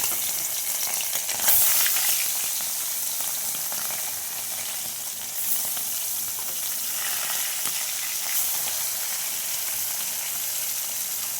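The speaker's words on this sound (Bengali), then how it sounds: "মাছগুলো আমি ভেজে নেবো" Pakal fish seasoned with salt and turmeric sizzle in hot oil, a dense steady crackle that runs throughout with a few brief louder spits and bursts, close and alone without any voices.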